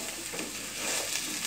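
Onion and jackfruit seeds frying in a pan over low heat while being stirred, giving a steady close sizzle with soft scraping movements throughout.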